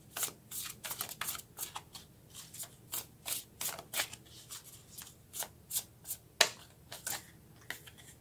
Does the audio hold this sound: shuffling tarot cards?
yes